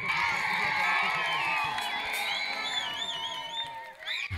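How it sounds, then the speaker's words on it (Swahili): Crowd cheering, whooping and shouting at a live event, loud and continuous with several high voices rising above the din and a few claps mixed in. "Shangilia kwa makofi mazito."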